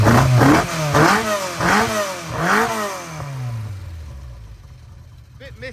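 A 1200 motorcycle engine on a dyno takes a series of sharp throttle blips, four rising and falling revs in quick succession, then settles back toward idle. The engine sounds close and loud.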